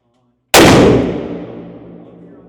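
A single very loud gunshot from a Smith & Wesson 500 Magnum revolver with a 4-inch barrel cracks out sharply after a brief silence and rings off in a long, fading outdoor echo.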